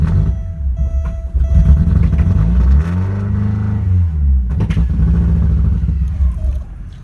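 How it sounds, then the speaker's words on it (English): Engine of a 1987 Porsche 924S held at high revs with the throttle open because it won't idle, a steady loud rumbling drone with slight pitch swells, close by and with no talk. "I can get it to start up, but unfortunately I have to give it a lot of gas to keep it running"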